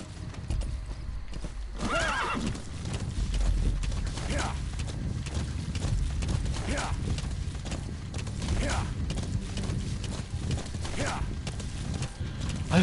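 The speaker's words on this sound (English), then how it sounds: "I just forgot I have my horse." Horse in Metal Gear Solid V: The Phantom Pain galloping with steady rhythmic clip-clop hoofbeats and several whinnying neighs spaced through the run, close and prominent.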